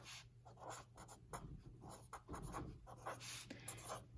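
A pen writing out a short answer by hand on paper, close, quiet scratchy strokes in quick irregular bursts, with no talking.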